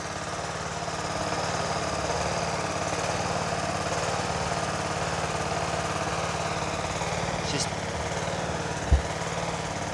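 A CTH 130 ride-on lawn mower engine running steadily at idle after being restarted and serviced, a constant close mechanical drone with a brief knock near the end.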